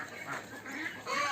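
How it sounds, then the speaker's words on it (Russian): A rooster and a turkey square off in a farmyard fight, giving rough, harsh clucking and gobbling calls that repeat close by for about a second and a half. "Сегодня у нас на ринге индюк с петухом."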